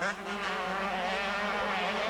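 125cc motocross motorcycles race, a Kawasaki chased by a pair of Hondas, their engines making a continuous high, buzzing whine that holds steady and loud throughout, with no speech.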